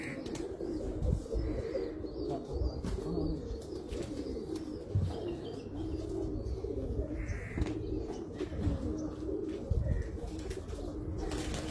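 Pigeons coo softly and repeatedly at a rooftop loft in Muscat, Oman, with low murmuring calls over a steady background hum and a few faint chirps.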